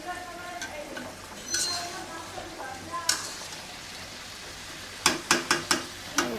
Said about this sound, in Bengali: তরকারি কষানো হচ্ছে, এই যে সব রকম মশলা দিয়ে।